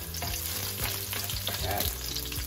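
Garlic and fresh chili frying in a pan, a steady close sizzle with occasional stirring scrapes and clinks throughout.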